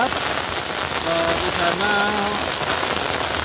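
Heavy rain falling on a village during the rainy season, a loud, steady hiss of drops hitting surfaces, with a person speaking briefly over it.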